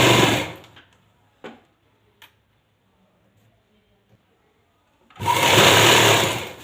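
A sewing machine stitches the lining of a salwar in two short bursts, one at the very start and a louder, steadier run near the end, with near silence and a few faint clicks in between.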